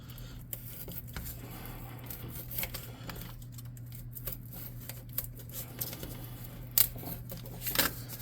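Rough rock shapes being cut for swamp tabletop terrain pieces, quiet scattered snips and crisp clicks spread irregularly over a steady low hum, no talking.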